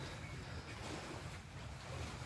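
Ocean waves wash around an island in the Philippines, heard from a dock as a steady surf roar mixed with wind buffeting the microphone, continuous and fairly close, with no speech.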